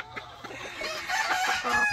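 A gamecock, a rooster of fighting-cock breeding, crows loudly and close by in a single drawn-out call with harsh harmonic overtones over faint background noise.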